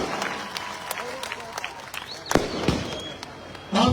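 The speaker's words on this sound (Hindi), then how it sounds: "जोरदार तालियां बजा करके इनका स्वागत करिए" Scattered clapping from a crowd at an outdoor neighbourhood campaign gathering in Kayam Nagar mixes with voices and background bustle for several seconds.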